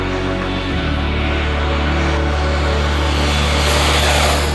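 A Pilatus PC-6 Porter propeller airplane drones loudly and close, its piston-like engine and propeller producing a steady, heavy roar with a strong low buzzing tone throughout.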